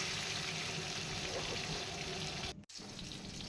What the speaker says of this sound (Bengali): আমটাকে কিন্তু এবার একটু তেলের সাথে ভালো করে ভেজে নেব।